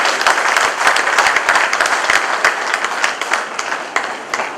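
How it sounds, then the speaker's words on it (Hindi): Loud, sustained applause from an audience at a Hindi fortnight award ceremony in 2016, dense rapid clapping filling the whole stretch without pause. "एक जोरदार तालियां के लिए।"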